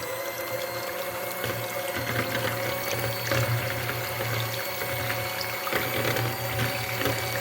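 Egg yolks are beaten with cake gel for a honey cake, likely with an electric beater: a steady whirring drone with faint rattling and swishing, continuous and unaccompanied by speech.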